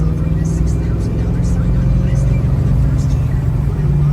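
A 1972 Chevrolet Monte Carlo accelerates through the gears with a loud, steady, close-up engine drone that holds a constant level throughout, with a voice faintly audible over it.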